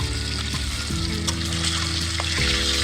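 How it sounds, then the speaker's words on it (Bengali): Fish pieces sizzle and crackle in hot oil in a pan, a steady close frying hiss with occasional faint clinks as the pieces are turned. "এরপর উল্টে পাল্টে মাছের পিসগুলো লালচে করে ভেজে নেব"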